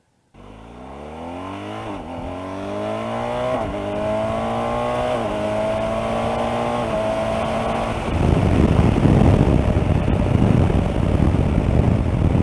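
A motorcycle accelerates hard, its engine note climbing and briefly dropping several times as it shifts up through the gears. The sound then gives way to louder, broad rushing noise from riding at speed.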